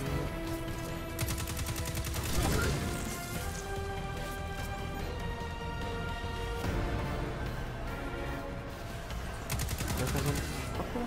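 Rapid bursts of automatic gunfire from a weapon in Destiny 2, loud and repeated over a layer of game music and effects.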